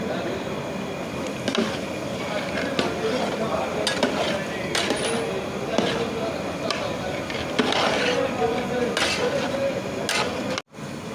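Raw papaya lentil dal being stirred in a pot: a steady scraping, clinking spoon against metal with a bubbling simmer underneath, as a voice speaks over it throughout.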